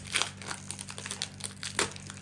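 Chocolate packaging crinkles and rustles as it is opened by hand, a close, quiet series of crisp crackles and wrapper snaps with short pauses between them.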